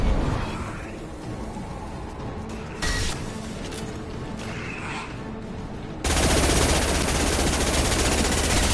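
Gunfire in a Mass Effect Legendary Edition cutscene: scattered shots and short bursts at first, then a loud, sustained automatic barrage takes over near the end, close and harsh.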